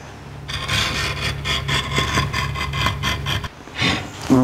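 A scriber drawn along metal stock clamped in place, marking an outline for a bandsaw cut during fabrication of a steering gear box mount on a 1949 Chevrolet gasser; steady close scraping and rasping strokes in quick succession.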